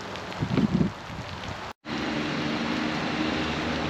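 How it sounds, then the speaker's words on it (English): Steady rain hisses continuously close by, with a brief dropout partway through and some low rumbling wind noise at the start. "And yes, it's still raining."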